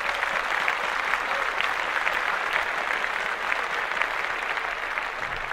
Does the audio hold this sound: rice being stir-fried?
no